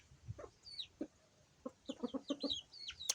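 A pet Cobra chicken clucks in a series of short, close clucks and brief vocal bursts, spaced unevenly and standing alone without talk.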